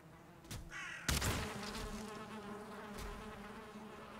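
Bees buzzing in the video game Valheim, a continuous droning hum with a sudden loud burst of impact noise near the start, then the buzz carrying on steadily underneath.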